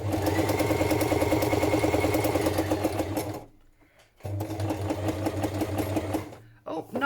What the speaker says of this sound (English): I'm going to move my sewing machine to one side because I think that's very noisy for you